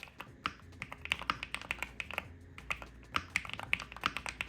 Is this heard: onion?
no